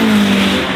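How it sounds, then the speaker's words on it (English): A Ferrari 812 Competizione's engine revs hard and loud in a brief, close burst with a high, sustained tone and no talking. "And now we've got the Ferrari 812 competition."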